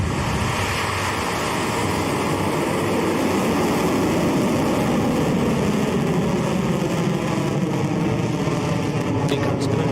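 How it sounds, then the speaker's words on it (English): Rocket Lab rocket engine roaring at liftoff, a steady, dense, loud rumble that holds throughout without letup. "Liftoff."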